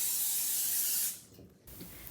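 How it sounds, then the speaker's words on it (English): A short burst of aerosol cooking spray hisses onto an air fryer rack for about a second, then stops, followed by faint handling noise. "Now we're going to want to spray our air fryer rack."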